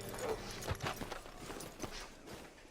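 Horse hooves clopping in Red Dead Redemption 2, a steady run of close hoof beats over a busy ambient game background.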